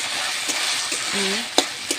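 Kamli greens frying in a pan with a little water, giving a steady close sizzle throughout, with a few brief clinks of a utensil stirring against the pan.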